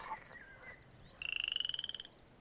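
Frogs call in a marsh, first a few scattered chirps, then a clear rapid trilling croak of about a dozen pulses, moderately near and alone.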